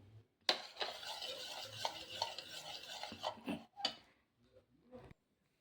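A bread mixture is stirred briskly in a bowl, giving a steady close run of scraping and clinking for several seconds before it drops to a few light taps.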